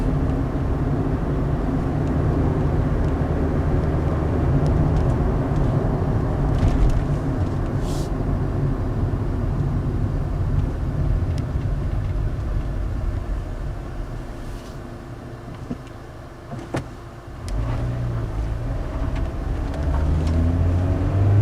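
Toyota Corolla with a swapped transmission accelerating hard through its gears, a loud steady engine drone with a brief dip as it shifts, heard alone without talk.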